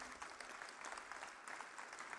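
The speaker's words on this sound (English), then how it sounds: "Let's keep the applause going." Crowd applause at a marathon and 5k/10k run award ceremony, a steady, fairly distant patter of many hands clapping with no talk over it.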